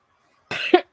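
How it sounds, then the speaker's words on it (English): A single person coughs sharply at close range, a harsh burst followed by two shorter coughs after a brief gap. "I was speaking, I started coughing"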